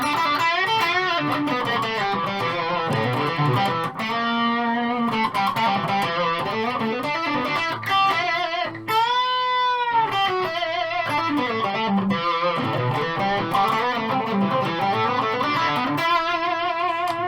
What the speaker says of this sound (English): So, bridge pickup with a bit of distortion on it.